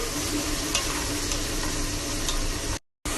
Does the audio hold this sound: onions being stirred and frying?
yes